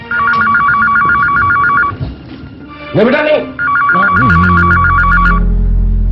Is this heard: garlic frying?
no